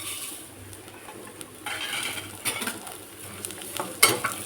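Poha (flattened rice) is roasted in a pan with a soft sizzle and repeated stirring scrapes and clinks of a spoon against the metal. A sharper knock comes near the end, with no voices.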